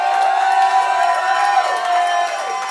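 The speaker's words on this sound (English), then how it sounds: "Let's have a big round of applause for Will and Amanda." A pub crowd at The Towler cheers, whoops and claps in a loud, close burst that holds steady for a few seconds, with shouting voices mixed into the noise.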